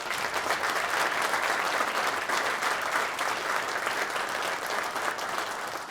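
Steady, dense audience applause fills a fire department badging and retirement ceremony, many hands clapping continuously and loudly for the whole stretch without letting up.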